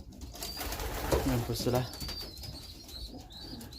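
Racing pigeons coo softly in a loft, low throaty calls with a few chirps and wing sounds close by, while someone talks over them.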